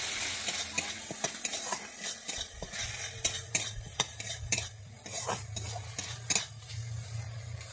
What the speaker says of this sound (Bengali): আর দিয়ে দিচ্ছি আমি পরিমাণ মতো চিনি, দিয়ে আমি ভালোভাবে নেড়ে নিচ্ছি।